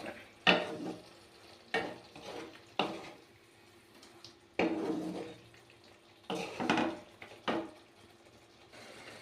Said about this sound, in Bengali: মশলার সঙ্গে একটু ভালো করে এটা পনিরগুলোকেও কষে নেব।